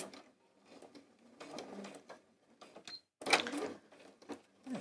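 Sewing machine stitching along a side seam of a skirt, several short bursts of whirring broken by pauses and a sharp clatter near the middle, close and moderately loud.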